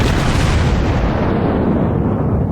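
A Wyoming-class battleship's heavy guns fire shells in World of Warships, producing one loud, deep booming blast whose rumble rolls on and slowly fades across the whole moment, with no voices.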